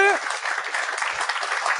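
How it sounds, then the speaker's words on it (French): A live podcast audience breaks into applause for the host, a dense spread of clapping that swells after a voice briefly trails off at the start, then carries on steadily. "On peut l'applaudir"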